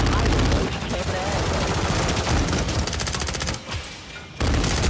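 Rapid bursts of gunfire from a Call of Duty match, including sniper shots, crackle loud and dense throughout with a brief dip near the end before resuming, under occasional players' voices.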